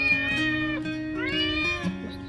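A cat meows in two drawn-out, wavering cries, close and fairly loud, with no one speaking.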